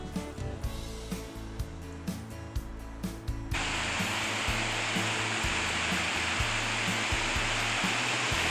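A waterfall near a hiking path in the Maggie Valley and Cherokee area, heard as a steady, loud broadband rush that swells after a few seconds of rhythmic background tapping and continues unbroken.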